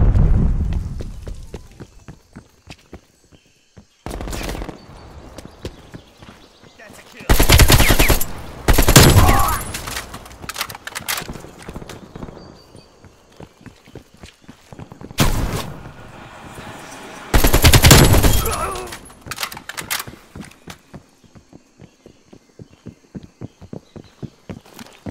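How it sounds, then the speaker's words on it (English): Sentry turret firing in the Call of Duty Black Ops Cold War game: rapid bursts of automatic gunfire with heavier loud blasts at intervals, close and intense, scattered across the stretch without talk. "Sentry turret ready to deploy."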